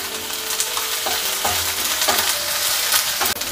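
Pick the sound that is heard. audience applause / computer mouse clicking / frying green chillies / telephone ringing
frying green chillies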